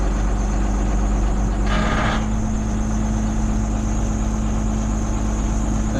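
A tractor fitted with bale forks runs its engine at a steady idle close by, a constant low hum with a brief burst of higher-pitched noise about two seconds in.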